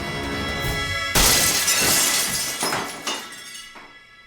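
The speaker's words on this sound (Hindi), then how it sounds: "अरे शीशा किसने तोड़ा?" A jeep's window glass is smashed in one loud, close crash, followed by scattering shards and tinkling pieces that fade over a few seconds; no talk is heard.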